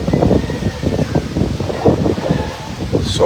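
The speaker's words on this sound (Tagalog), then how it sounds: "Sobrang lakas ng hangin at malamig ngayon dito sa Silang." Strong, cold wind blows across a farm in Silang, Cavite, roaring steadily as a loud, close rumble of gusts buffeting the microphone, with no pause over the few seconds.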